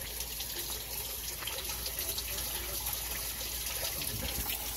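Water from a washing machine's drain pours steadily into a household sink, a continuous splashing gush that stays loud and unbroken throughout, with no talking.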